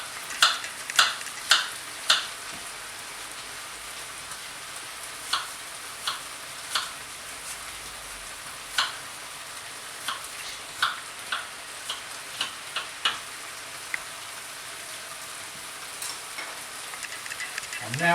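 A knife chops a prepared apple for homemade dog food made with liver and kidney. Sharp, irregular taps on a board come close together at first, then thin out into sparse knocks over a low, steady background hiss.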